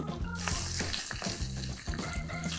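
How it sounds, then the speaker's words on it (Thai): Onions sauté in butter and oil with a steady crackling sizzle, and a few light clinks and stirring sounds come through over the frying. "ตั้งกระทะใส่เนย และน้ำมันมะกอกผัดหอมด้วยไฟปานกลางจนเริ่มนิ่ม"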